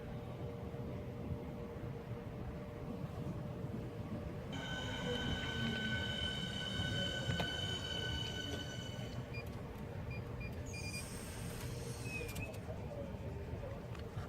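A class 465 electric unit, 465029, runs through Gillingham station on the Chatham Main Line toward London Charing Cross, a steady rumble of wheels on rails with a long high whine and a wheel squeal, close and continuous without talking.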